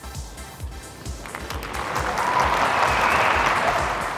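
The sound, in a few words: crowd cheering in Antwerp sports hall at tennis match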